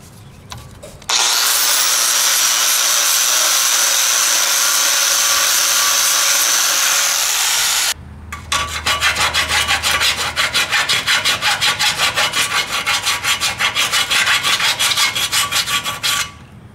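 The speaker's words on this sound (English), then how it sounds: "you need to remove all the burrs so the heads of the bolts and the nuts sit nice and flat" Burrs being removed from metal trailer tongue parts of a Fulton folding trailer tongue kit: a long steady scraping rub, then a second stretch of rapid, rhythmic back-and-forth rasping strokes, loud and close.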